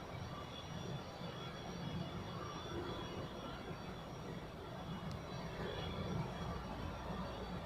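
A Eurowings airliner takes off on runway 28 at Zurich Airport, heard as a steady, faint, distant jet roar under open-air background noise.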